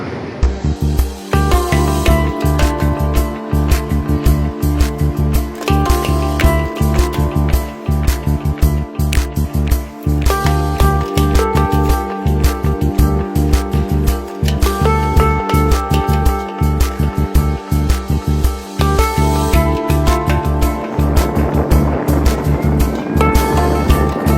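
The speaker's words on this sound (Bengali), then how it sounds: "মগো লঞ্চ এখন চলতেই আছে।" A passenger launch motors along a river in Bangladesh, its engine thumping in a constant, loud, dense rhythm with rattling and mechanical clatter throughout, heard close aboard without pause.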